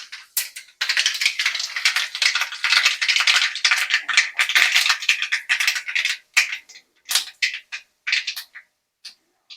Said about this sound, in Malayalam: കടുക് കുറച്ച് പൊട്ടിച്ചു.